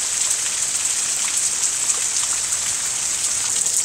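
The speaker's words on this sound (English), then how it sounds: "So you can hear the rain. Just listen to the rain." Steady rain falls outdoors in Arkansas, an even, continuous hiss of drops hitting surfaces with no voices, close and fairly loud throughout.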